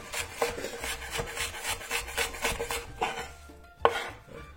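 Quick, rhythmic knife strokes chop an onion finely on a wooden board for guacamole, a string of close, crisp taps and scrapes with a sharper knock near the end and no talking.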